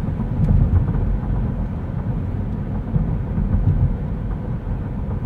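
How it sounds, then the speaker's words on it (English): Road noise fills the cabin of a 2023 Kia Niro Hybrid SX Touring on the move, a steady low rumble of tires and wind holding at a constant level for several seconds, with no voices. "A little bit more road noise, NVH, than I would prefer."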